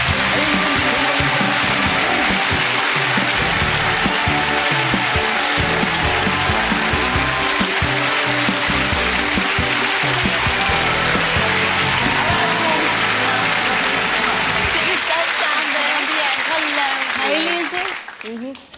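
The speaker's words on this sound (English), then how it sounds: "Give them a big round of applause." Loud, continuous applause from a TV studio audience at an anniversary entertainment show, with music and voices running beneath the clapping until it tapers off near the end.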